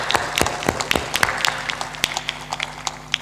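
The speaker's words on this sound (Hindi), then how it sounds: "जोर से ताली बजा दो।" Audience clapping at a Hindu satsang gathering, a crowd of hands producing dense, uneven applause with sharp individual claps standing out, steady throughout with no voices over it.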